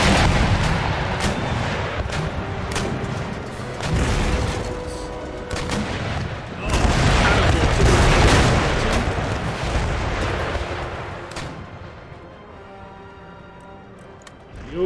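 Ship rockets and cannon fire in the naval battle game Empire Total War: loud, repeated booming blasts and crackling volleys rolling over one another, then fading into scattered distant shots.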